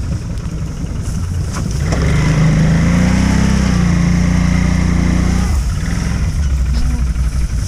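Quad bike engine starting and running during an ATV season opening outing, a loud close motor that rises after a couple of seconds into a steady rumbling idle, then eases back.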